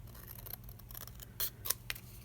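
Scissors snip through a paper card for a budget journal spread, a few short crisp cuts close by, fairly quiet and with no talking over them.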